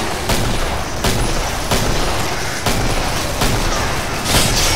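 Hand cannon fire in the video game Killing Floor: several heavy, booming shots ring out over a dense, continuous din of in-game combat noise, with no talking.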